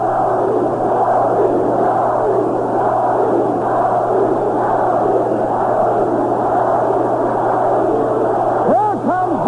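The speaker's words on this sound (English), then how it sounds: "Listen to the crowd." A baseball crowd at a Mets at Cubs game roars steadily and loudly on a vintage radio broadcast, a continuous wash of cheering with a voice emerging at the very end.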